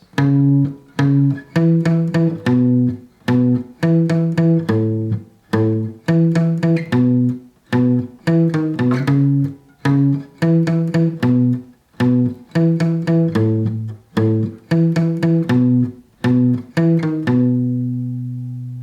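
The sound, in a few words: guitar playing bass line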